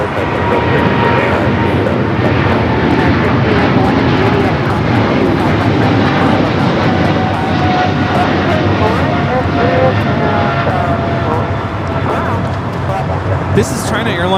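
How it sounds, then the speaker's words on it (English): A China Airlines Cargo Boeing 777 freighter taking off from LAX, its loud, sustained engine roar filling the scene while a person talks and radio chatter runs over it. "China Airlines Cargo 5382 taking off to Miami on the 777 freighter."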